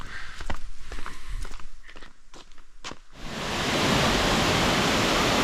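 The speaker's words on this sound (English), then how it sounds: "There's the first Buma waterfall." Bouma waterfall in Fiji: footsteps on a trail at first, then the steady broadband roar of falling water swells in and holds close and loud.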